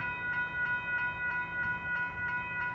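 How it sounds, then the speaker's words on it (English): A Union Pacific southbound freight train led by several locomotives passes on track 2, a continuous loud rumbling roar with a steady high tonal whine and rhythmic wheel clatter, close and unbroken. "No, southbound freight. Down track 2."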